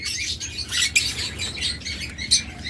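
Pet birds chirp for sale, near an albino black-eye pair, with repeated bright tweets and short calls sounding clearly against a low background rumble.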